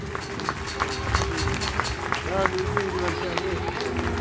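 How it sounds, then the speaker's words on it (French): A crowd at an outdoor falconry show in L'Isle Adam claps for a bird, a scattered, uneven patter of hands over a steady low hum and background voices. "Voilà, maintenant on peut l'applaudir mon petit gros."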